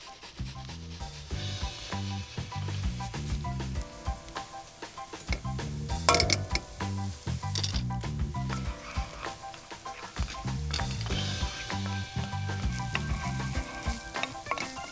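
Shallots and minced garlic frying in a pan, a busy close sizzle with rhythmic scraping and stirring from a utensil and a brief clink, no voices.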